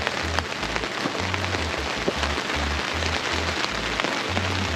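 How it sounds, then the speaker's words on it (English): Heavy rain drums steadily on a camping RV, a dense, even hiss of close patter that continues without pause, no talking. "Yeah, it's raining even faster."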